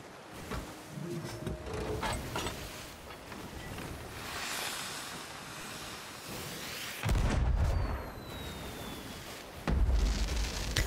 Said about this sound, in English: I said I was going to do the firework, right?